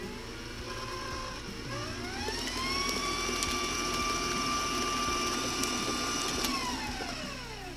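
An electric mixer beats banana bread batter with a loud, close motor whine that rises in pitch as it speeds up, then holds steady and drops away near the end, with no voices.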